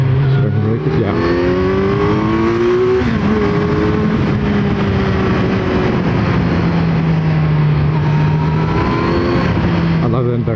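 A Kawasaki Z900 ABS motorcycle roars loudly as it accelerates through the gears, its engine and induction note climbing in pitch, dropping at each shift, then climbing again under wind rush.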